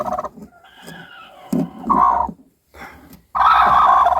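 Hens cluck and squabble close by in short, irregular bursts, with brief quiet gaps between their calls.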